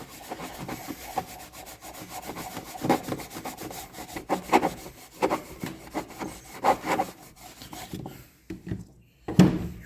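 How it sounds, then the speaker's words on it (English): A rag soaked in carb cleaner wipes gunk from a Stihl BR600 backpack blower, making irregular bursts of close rubbing and scrubbing that rise and fall, with no talking. "Just wipe all this nasty gunk out of here."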